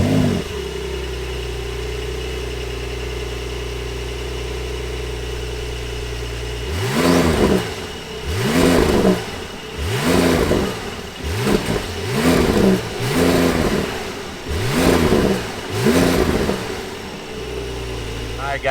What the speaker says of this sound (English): let's fire up this 911 Turbo S and hear what it sounds like